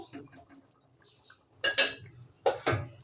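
A lid going onto a pot of taro stem and hilsa fish curry, a few close metallic clinks and scrapes after some faint knocks, with quiet pauses between.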